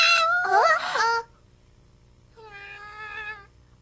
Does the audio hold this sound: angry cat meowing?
yes